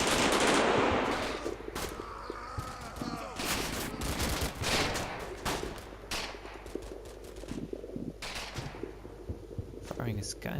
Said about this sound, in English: Firing is kind of dying down.